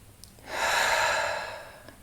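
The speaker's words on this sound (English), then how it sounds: "Take a deep breath in." A slow, deep inhalation during a guided meditation and stretching session, a soft airy breath swelling for about a second, close and alone with no talk.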